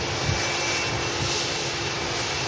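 A Jet2 Boeing 757 jet airliner departs, its steady broadband engine roar holding loud and constant throughout with a low rumbling undertone and no voices.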